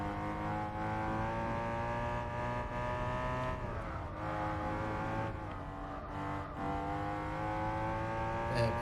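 Off-road BMW M3 racing in Gran Turismo 4, its engine holding a steady droning whine that dips and climbs again as the car lifts off and accelerates, loud and continuous with no voices over it.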